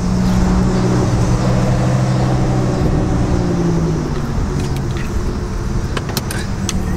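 A car engine idles and hums steadily at close range on a city street in downtown Washington, with a low constant rumble and some light clinking near the end.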